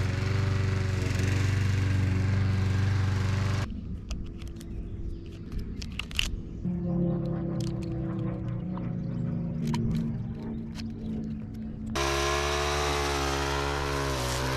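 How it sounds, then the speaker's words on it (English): A mower engine runs close by, loud and continuous, cutting grass between vineyard rows, fading back midway with rattling and clattering before surging up again. "We mow between the vines."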